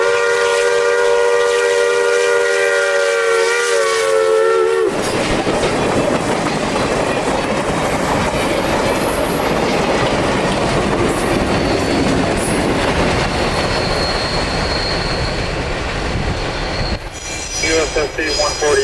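The U.S. Sugar Santa Express excursion train passes close by, with a loud horn blast at the start followed by rumbling wheels, clattering rail joints and squealing metal.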